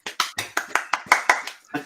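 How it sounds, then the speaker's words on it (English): Studio audience applause greeting a guest on a sales talk show: about nine crisp, evenly spaced claps, close and fairly loud, with no talk over them. "thank you for the applause"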